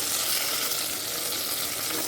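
Sardine curry bubbling briskly in an uncovered pan, a dense, even hiss and sizzle of boiling liquid held close and steady throughout.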